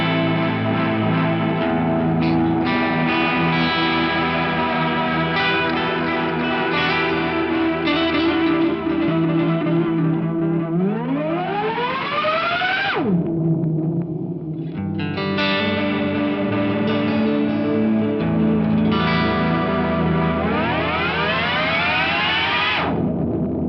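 Eventide H90 tape warble effect with wow, flutter and tape hiss, processing a sustained electric guitar chord whose pitch wobbles and bends in sweeping dives, loud and continuous with no voices.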